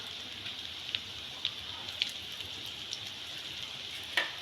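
Potato pakoras frying in hot oil in a home kitchen, a steady soft sizzle and crackle with occasional sharper pops, fairly faint and continuous.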